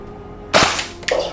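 A Tokyo Marui SAIGA-12 airsoft shotgun fires two sharp, close cracks about half a second apart, each with a brief metallic ring, heard alone.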